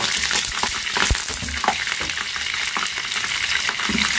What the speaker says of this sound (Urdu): اب اس میں لہسن ڈال دیا ہم نے لال مرچ تھوڑی سی ڈال دی ہے ہری مرچ ڈال دی